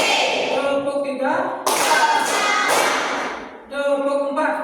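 A classroom of pupils claps in unison during a counting clap game, with a dense burst of loud, close group claps set between stretches of children chanting together.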